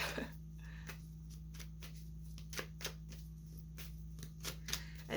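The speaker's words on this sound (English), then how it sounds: "Let's pull a few more cards here." Tarot cards being shuffled by hand, a quiet series of crisp riffling flicks and taps in an irregular rhythm over a steady low hum, no voices.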